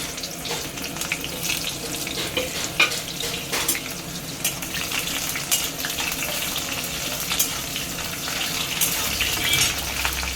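Onions fry in a pan with bay leaves and whole garam masala, a dense, loud sizzle with scraping stirring and clatter, close up and continuous.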